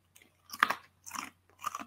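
A crunchy oven-baked snack being chewed up close, giving three distinct crackly bites and crunches in quick succession with quiet gaps and no talking.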